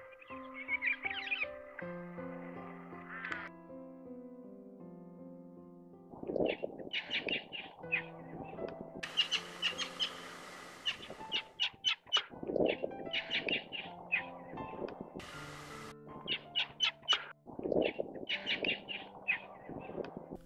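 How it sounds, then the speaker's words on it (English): Blue Bonnet parrots chatter among themselves in trees, a steady run of close, loud chirps, squawks and whistled notes that come in busy bursts over a sustained tonal background, with no talking. "And also chatter in the trees amongst themselves."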